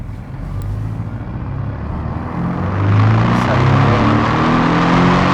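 A 2018 Porsche Cayman 718 GTS engine and exhaust drone steadily with a low, loud roar that climbs in pitch and volume as it revs, with faint gear-change shifts in tone.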